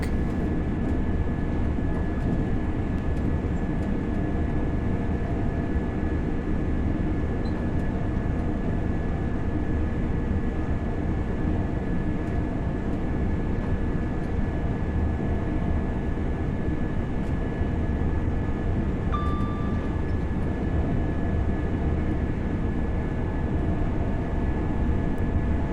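Train passing by in Train Sim World 6, a simulated East Coast Main Line express from Edinburgh Waverley to London King's Cross in a blizzard, heard as a steady, dense rumble of rolling wheels and motors that stays loud and even throughout.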